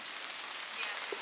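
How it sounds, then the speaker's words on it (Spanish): Steady rain falls on surfaces at Woodland Park Zoo in Seattle on a cold day, making a soft, even hiss throughout with a faint drop or two. "Con mucho frío y mucha lluvia"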